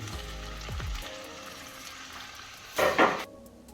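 Chopped parsnips fry in butter in a wok with a soft, steady sizzle, then a brief louder crackling burst of stirring near the end before the sound cuts off; no voices are heard.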